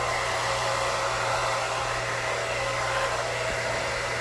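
A hair dryer blowing steadily while drying thick, coarse hair, a loud close continuous whoosh with an even motor hum throughout and no speech.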